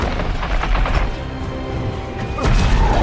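A huge gas fire explosion erupting from a city street in the disaster film Geostorm, with a loud, dense roar of booming rumble and crashing debris throughout, swelling again near the end before cutting off.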